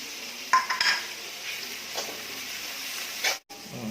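Chicken gizzards and liver fry in a pan while a spoon stirs them, giving a few scraping, clattering strokes over a quiet, low sizzle.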